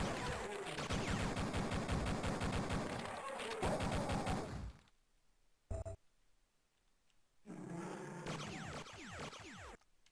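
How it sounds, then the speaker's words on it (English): Gunfire in the Duke Nukem 3D PC game, Hollywood Holocaust level: a dense burst of rapid shots with game effects for about five seconds, a sudden single blast near six seconds, then another loud stretch of shooting and clatter. "Who's shooting?"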